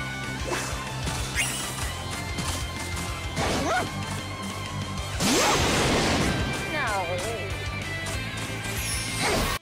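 Fighting attacks in the video game Digimon All-Star Rumble: sharp smashes, thwacks and bursting blasts land in quick succession, with a voice calling out over the effects between hits.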